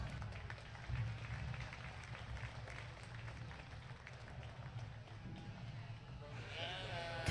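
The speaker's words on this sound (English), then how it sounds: "Let's give them a nice round of applause." A crowd claps in steady applause in a large, echoing space at a market lamb show while sheep bleat nearby, and a voice briefly cuts in at the end.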